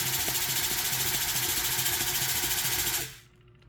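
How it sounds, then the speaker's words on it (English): A small rotary tumbler polishing 999 silver hums and rattles steadily with a rhythmic mechanical ticking, then stops abruptly before reversing direction, leaving near quiet at the end. "It actually will stop, and then it's gonna like rest, and it usually goes the other way."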